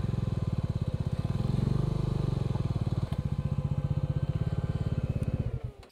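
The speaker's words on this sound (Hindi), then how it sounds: "ये पार कर देते हैं हम अपनी बाइक।" A motorcycle climbs uphill on a Himalayan road in Himachal Pradesh, its engine thudding in a rapid, steady rhythm close to the microphone, straining briefly, then easing off and fading at the end.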